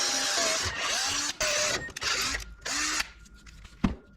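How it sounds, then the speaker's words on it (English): Power drill boring through aluminum, stepping up bit sizes to a 7/32 bit: several loud close whirring bursts that rise and fall in pitch, each stopping short, with brief pauses between. "we have to drill up to a 7/32"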